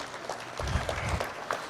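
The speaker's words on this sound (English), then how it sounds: "Let's give Ms. Lacey a round of applause, please." A small audience at a West Baton Rouge Parish president candidate forum claps for Ms. Lacey, a brief burst of moderately loud applause with some uneven, distinct claps.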